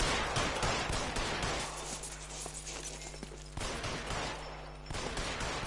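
Gunfire in the video game L.A. Noire: sharp, loud shots burst close by in quick clusters, with short pauses between volleys and a faint background hum beneath.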